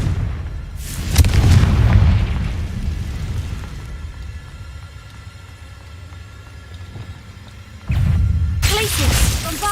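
Fire-spell explosions in the video game Hogwarts Legacy: a heavy booming blast with a rumbling tail that fades out, then a second loud burst near the end, with a voice calling over the game sound.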